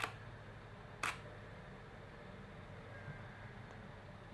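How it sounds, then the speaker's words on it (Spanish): A Nikon D3300 camera shutter fires at a one-second exposure: a crisp click opens it, and a second click about a second later closes it, heard close in a quiet room. "se puede escuchar que el obturador se abre y se cierra mucho más lento"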